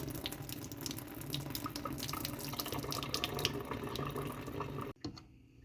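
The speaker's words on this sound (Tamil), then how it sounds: "இப்போ இது நான் இதை வடிகட்ட போகிறேன் பாருங்கள் மக்களை வடிகட்டுறேன்" Water from cooked food drains through a strainer in a home kitchen, a steady, full splashing pour like a running tap that lasts about five seconds and then stops abruptly, leaving near silence.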